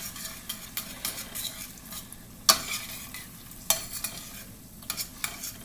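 Food simmers and sizzles in a frying pan on a steady hiss, with a utensil scraping and stirring through it in sharp, irregular clicks, close by and without talk.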